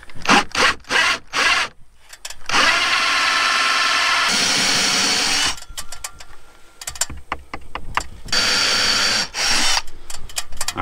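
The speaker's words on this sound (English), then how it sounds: "now I need to go on the outside and drill my hole from the other side" A power drill bores a hole through a house wall from the outside at an off-grid homestead. Several short, loud whirring bursts give way to a long, continuous grinding stretch, followed by more choppy bursts as the bit works through to the OSB.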